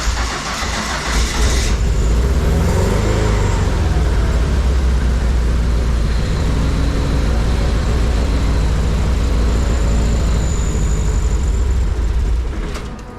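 A Ford Fiesta engine with an unreliable starter cranks and catches, then runs at a steady, close, loud idle with a low rumble and a faint whine above it, ending in an abrupt click near the close. Nobody speaks.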